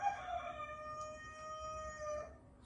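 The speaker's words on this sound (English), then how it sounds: "Excuse the turkey or the roosters." Roosters crow outdoors in a yard where turkeys also roam, one long drawn-out cock-a-doodle-doo rising and fading at moderate distance over quiet outdoor ambience, with no talking.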